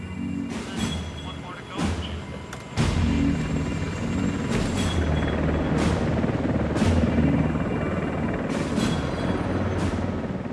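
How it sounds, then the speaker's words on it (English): A steady rescue helicopter rotor drone dominates, hovering over waves, with deep low rumble and rhythmic thumping throughout, growing louder partway through. "he must make the helicopter rise and fall with the waves"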